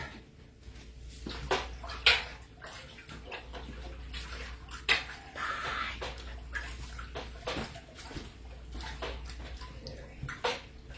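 Mead must is stirred in a fermenting bucket after two gallons of water are added, giving faint sloshing and splashing with repeated sharp knocks and clatters at irregular intervals.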